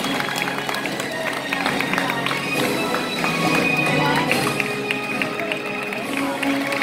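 A crowd at Legoland applauds the Imperial Navy band, a dense, continuous clapping wash with whoops and chatter mixed in, moderately loud and sustained throughout.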